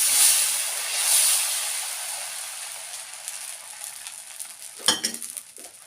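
Dosa batter sizzles and hisses on a hot pan for a spicy double-decker dosa, a steady bright frying hiss that fades slightly, followed by a few soft clinks near the end.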